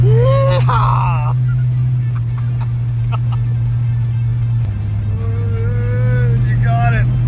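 A rare 1969 Dodge Charger R/T SE engine on the road: a loud, steady low drone that continues throughout, with people talking over it.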